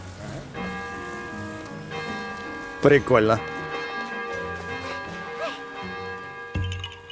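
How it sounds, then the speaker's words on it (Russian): A bell struck in the video game The Legend of Zelda: Tears of the Kingdom rings out in a short burst of bright metallic clangs near the middle, over steady game music, with someone speaking briefly. "А в колокол можно позвонить?"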